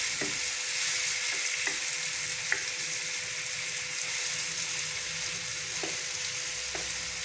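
Chicken frying with spices in a pan for chicken handi, a steady close hiss of sizzling oil with a few light clicks of stirring, no voices.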